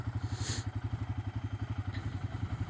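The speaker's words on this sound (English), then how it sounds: "this is how I start my motorcycle every day" A motorcycle engine runs with a steady, rapid low-pitched pulsing like a close idle, with a faint click or two above it and no talking.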